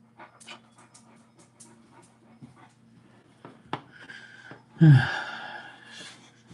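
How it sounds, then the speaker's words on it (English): A dog huffs and pants close by in a quiet room on a cool day, its breaths coming in short soft puffs and then one louder burst near the end, with no talk. "You're huffing and puffing and it's nice and cool."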